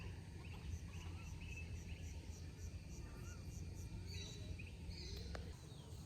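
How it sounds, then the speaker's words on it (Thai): Chickens at a campsite give faint, scattered clucks and calls against a low, constant outdoor hum, heard from some distance. "มีไก่ด้วย"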